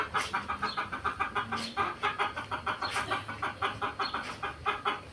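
Chickens cluck in a steady run of short, repeated calls, fairly close, with a few higher squawks breaking through.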